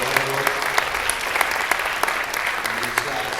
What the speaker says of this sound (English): Y'all give them a big round of applause.